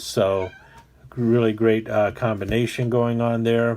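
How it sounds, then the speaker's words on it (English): A foster cat meows in the background while a person talks over it, the short tonal cries mixing with the speech throughout. "if you're hearing a cat in the background"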